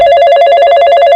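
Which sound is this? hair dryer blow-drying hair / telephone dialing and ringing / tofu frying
telephone dialing and ringing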